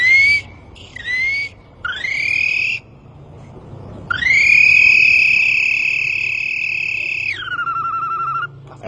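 A human bird and animal imitator from the Brazilian sertão mimics a flood frog call with whistle-like tones: several short rising notes, then one long, loud sustained tone that drops at the end, over a low hum.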